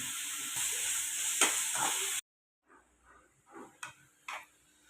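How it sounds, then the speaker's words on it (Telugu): Onions sizzle loudly in a pan with salt and green chillies, a steady hiss that cuts off abruptly, followed by quieter scattered scrapes and stirring taps. "ఇప్పుడు ఈ ఆనియన్స్ బాగా వేగాలంటే సరిపడా ఉప్పు వేసుకొని కలుపుకోవాలి."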